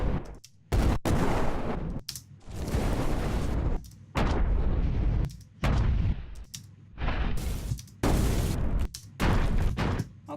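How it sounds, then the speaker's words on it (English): Explosion sound effects fire in a series of loud, booming bursts with crackling tails, about eight heavy blasts spread over the stretch and separated by brief silences. "Explosion sounds."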